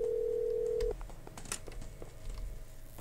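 A steady telephone dial tone in the video game Lucius II, holding for just under a second before cutting off, followed by quieter scattered clicks and faint in-game ambience.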